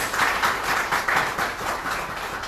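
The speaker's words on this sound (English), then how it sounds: "Let's have another loud round of applause as we welcome His Excellency in our midst." An audience at a mobile device industry summit in India gives a round of applause welcoming an ambassador, a moderately loud wash of clapping with a loose, pulsing rhythm and no talk.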